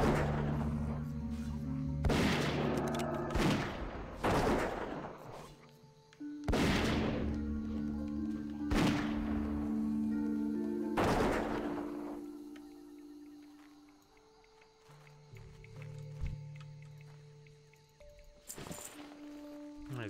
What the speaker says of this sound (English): If you attack us, we're shooting you.